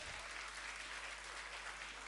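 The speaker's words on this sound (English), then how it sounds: "Can we give them a big round of applause?" An audience at a school annual day show claps for the kindergarten teaching team, a dense, even wash of applause heard from a distance and fairly quiet.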